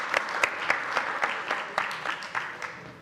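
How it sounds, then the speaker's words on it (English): An audience claps for the judges at a Nordic sommelier championship. The applause is moderately loud and scattered, with distinct individual claps standing out in an irregular rhythm, and it fades slightly toward the end. "Can we clap for the judges"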